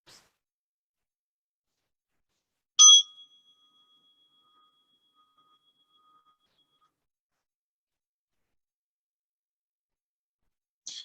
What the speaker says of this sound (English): when you hear the bell, we'll formally begin